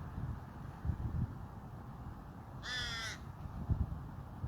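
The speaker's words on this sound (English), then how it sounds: "Hello, crow." A crow caws once outdoors, a short harsh burst standing out against steady wind and low rumbling background noise.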